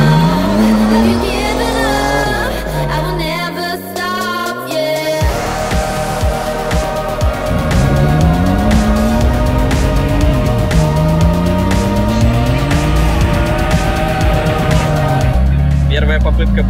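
Car launching hard from a standstill in a timed 0-100 km/h acceleration run with one passenger aboard, engine climbing in pitch through repeated gear changes, loud and continuous inside the cabin, with voices over it.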